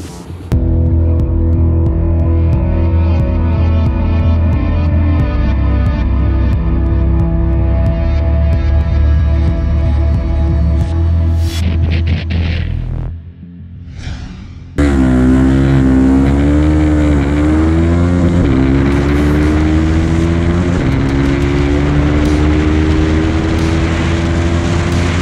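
A KTM Duke 250 motorcycle accelerating hard from 0 to 100 km/h, its loud engine revving steadily up through the gears with a brief drop during a shift, then climbing again in a rising, throbbing whine, close and without talk.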